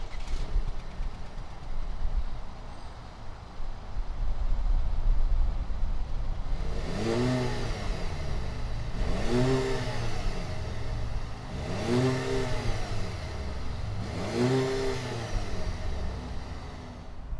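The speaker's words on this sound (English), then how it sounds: "fire up this 2-liter turbocharged engine and see if it makes any sound" A 2020 Cadillac CT5 sedan's 2-liter turbocharged engine fires up, settles to a quiet idle, then revs four times in a regular rhythm, each rev rising and falling, close by with no talking.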